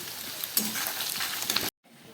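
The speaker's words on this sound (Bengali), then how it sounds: "আলু পেঁয়াজটা অনেকটা ভাজা হয়ে গেছে" Potatoes and onions with bay leaf sizzle in a pan as salt goes in, a steady close frying hiss with small stirring knocks, then it cuts abruptly to a quieter low hiss near the end.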